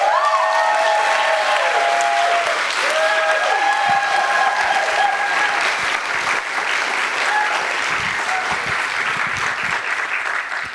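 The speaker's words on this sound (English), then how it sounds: "I want you all to give a round of applause to a great program called Destination Tomorrow." An audience at the 2024 Engendered Spirit Awards gives a sustained round of applause for a youth program, a thick wash of clapping with a few cheers and whoops over it.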